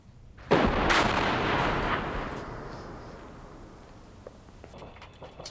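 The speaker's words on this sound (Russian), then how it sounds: "А что за стрельба?" A heavy artillery blast from shelling in Donetsk booms out at close range, then rolls off into a long fading rumble with faint crackles trailing behind.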